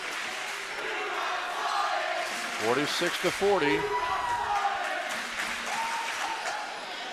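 Crowd at a men's college basketball game between Southern Virginia University and Penn State-Harrisburg erupts after a block, loud cheering and shouting swelling mid-clip with a commentator talking over it.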